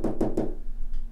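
Three quick, evenly spaced knocks sound close and solid in a quiet house, then fade into a low background hum.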